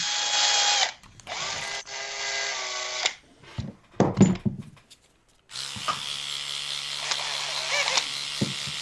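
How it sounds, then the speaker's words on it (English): A power drill runs in several bursts, a loud whining motor that revs steadily, cuts out, sputters briefly, then runs again in a long sustained stretch near the microphone. "I'm going to serenade you with my drill"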